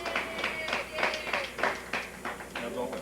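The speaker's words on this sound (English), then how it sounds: "Let's give him a big round of applause." An audience at a 1989 show claps in bursts for a performer, rhythmic applause at moderate distance that rises and falls in waves, fairly faint overall.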